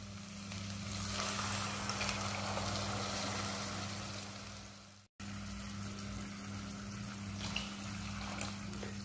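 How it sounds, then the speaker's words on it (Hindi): Water poured into a pan of fried potatoes and minced keema meat sets off a steady, close hissing sizzle and bubbling that cuts out for a moment, then carries on without talk. "अभी हम इसमें ऐड कर रहे हैं पानी।"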